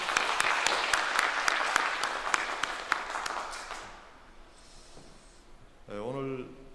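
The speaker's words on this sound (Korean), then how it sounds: "하나님 앞에 한번 박수 한번 올리십시다" A church congregation claps together for a few seconds with sharp individual claps over a dense clatter, then the clapping stops and a voice speaks briefly at the end.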